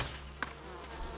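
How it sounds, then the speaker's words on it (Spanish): Wasps buzzing in the video game Ghost of Tsushima, a steady close insect drone with one brief sharp impact partway through. "A ver, a las avispas que me van a picar."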